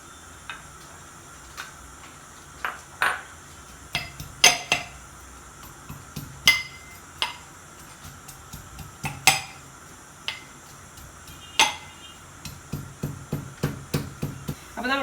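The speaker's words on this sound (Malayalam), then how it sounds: "ആദ്യം തന്നെ നമുക്ക് ഉള്ളിയും വെളുത്തുള്ളിയൊക്കെ ഒന്ന് ചതച്ചെടുക്കണം." Onions and garlic crushed in a Kerala kitchen for a boti curry, with a string of sharp pounding knocks, sparse at first and then quicker, close by and fairly loud with no talk.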